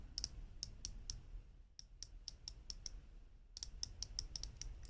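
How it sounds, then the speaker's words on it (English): A 120-click unidirectional bezel on a Phoibos Wavemaster 200m dive watch clicks as it is turned, giving close, light ticks in quick bursts separated by short pauses. "The bezel action, I'm going to let you listen to it here."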